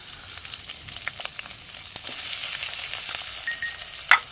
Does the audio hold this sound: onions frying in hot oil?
yes